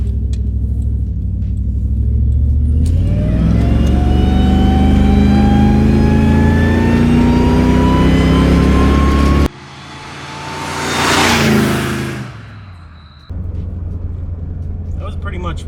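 A supercharged Ford OBS truck engine revs hard at wide-open throttle, climbing in pitch with a rising supercharger whine, then cuts off into a whooshing rush before idling again, loud and close.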